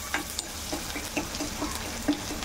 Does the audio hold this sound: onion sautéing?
yes